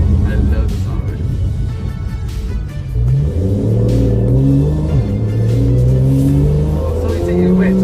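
A Porsche 991.1 Carrera S engine revs on a wet road, its pitch climbing and dropping through several downshifts. The rumble is loud and close, and people talk over it.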